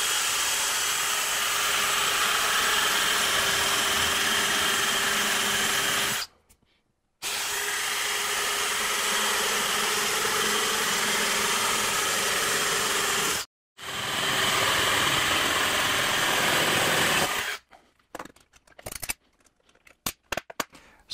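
A 1.5-inch spade bit bores large holes through wood in long, loud, steady spells of whirring drilling, broken by short pauses, with a ragged burst of grinding near the end.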